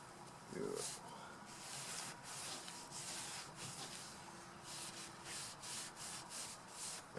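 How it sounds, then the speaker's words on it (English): Cloth wiping over a Bondo body filler patch on a Buick, a soft steady rubbing with repeated strokes, fairly faint and continuous throughout. "now we'll give it one nice cleaning wipe, the whole area"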